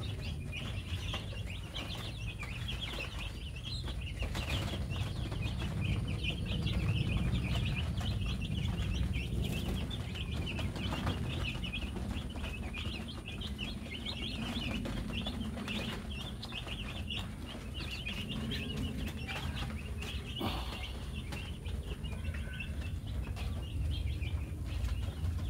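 Chickens in a coop on a black soldier fly maggot farm, soft scattered clucks and bird chatter under a low steady background hum, fairly quiet and continuous.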